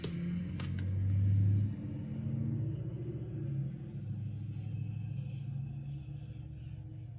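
Loud, steady low rumble of a truck close by, swelling around the second second and holding for the whole stretch, with no talk over it.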